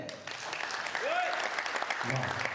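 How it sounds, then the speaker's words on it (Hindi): A theatre audience claps together in a steady burst of applause, fairly close, with a voice briefly over it and music entering toward the end. "तो चलिए एकता के साथ सब लोग मिलकर जोरदार ताली बजाए"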